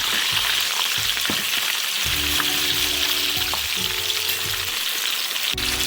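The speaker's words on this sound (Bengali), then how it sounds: "সেম তেলেই বাকি জিনিসগুলো আছে সেগুলো ফ্রাই করে নিচ্ছি" Ingredients for chicken wings fry in a pan of hot oil, a loud, continuous close sizzle with a low steady hum underneath.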